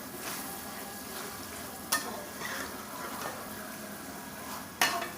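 Hand-minced keema frying in a pan, a steady moderate sizzle broken by a couple of sharp utensil clinks against the pan.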